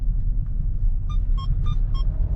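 Steady low cabin rumble inside a Renault Samsung All New SM7 2.5 LE sedan crossing a bumpy road section, with a soft, even road roar and a few faint brief tonal chirps from the interior.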